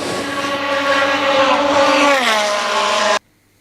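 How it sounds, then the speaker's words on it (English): Ferrari Formula 1 race car at full throttle during a hill climb at a Ferrari festival, a loud, sustained high-pitched engine scream that drops in pitch as it passes close by, then cuts off abruptly. "So this, folks, is a Ferrari F1 car in full anger."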